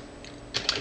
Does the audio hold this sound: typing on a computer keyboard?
yes